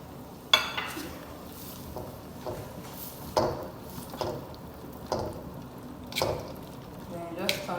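Butter melts in a stovetop pot for a Nigerian shrimp seafood boil while being slowly stirred, giving soft sizzles and several sharp scraping clacks of the spoon against the pot at irregular intervals, close and fairly clear.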